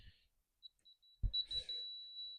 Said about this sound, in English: as you can hear, got the level beeping sound